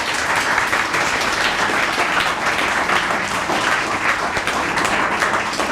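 Loud, sustained applause from a large audience of students at a school farewell, a dense continuous patter of many hands clapping throughout.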